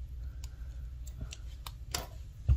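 Scissors snipping crochet thread, a few sharp quiet clicks spaced irregularly over low background hum.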